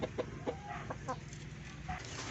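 A hen clucks in a small backyard poultry yard, several short soft clucks scattered over two seconds, fairly faint against a steady background hum.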